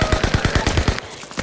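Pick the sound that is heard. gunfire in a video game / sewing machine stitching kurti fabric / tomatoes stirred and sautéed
gunfire in a video game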